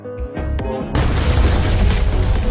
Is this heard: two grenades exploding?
yes